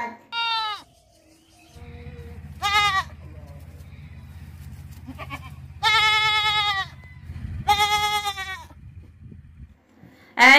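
Goat bleating in several loud, wavering calls separated by short gaps, over a low steady hum, with no talking.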